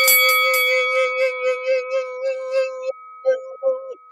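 A notification bell sound effect, a sustained bright chime with a steady ringing tone that carries under a run of short pulsed notes, close and clear, then breaks into brief choppy bursts near the end.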